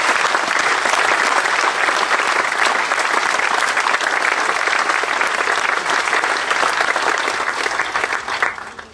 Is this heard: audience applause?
yes